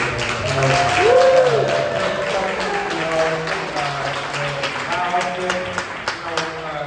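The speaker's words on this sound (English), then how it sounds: "Everybody get a hand clap for Derek," Crowd clapping at a live music summit event, moderate applause running under a tonal background and some voices, without a sharp peak.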